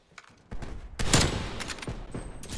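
Rapid gunfire from a first-person shooter game, shots punched through a wooden wall, bursting in loud sharp volleys after a quiet start and continuing in close, clustered cracks.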